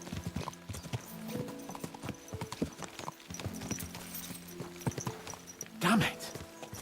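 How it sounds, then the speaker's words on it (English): Horse hooves clip-clop in a steady trotting rhythm in the medieval video game Kingdom Come: Deliverance 2, with someone talking over the hoofbeats and a brief neigh near the end. "Let's really spur these horses on, eh?"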